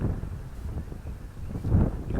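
Gusty wind on a very windy day outside St Peter's church in Great Livermere, buffeting the microphone with low, rumbling surges that rise and fall throughout, fairly loud and with no talk.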